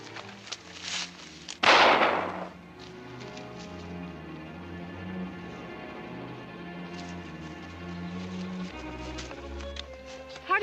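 A single loud pistol shot cracks out near the start of a scene from the 1952 western The Pathfinder, then tails off into a low musical score with no talking.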